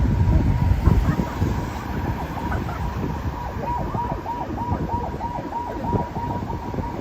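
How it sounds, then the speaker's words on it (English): An ambulance siren wails in a repeating yelp pattern behind a bus on a city street in Seoul, steady and fairly prominent over rumbling traffic noise. "There's an ambulance following this bus here."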